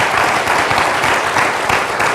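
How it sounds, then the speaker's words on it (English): Audience applause at the close of a speaker series evening on ethics, sports and fair play, a steady dense patter of many hands clapping at close range with no voices over it. "a big round of applause for our guest, Chuck Wilson, Coach Steve Ritter"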